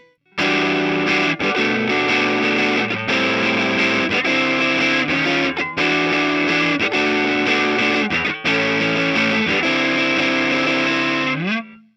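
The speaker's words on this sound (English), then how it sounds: "Distortion is basically a more powerful version of overdrive, meaning it has a lot more gain available." Heavily distorted electric guitar plays chords in bursts, thick and saturated, with short breaks between phrases and a final sliding note.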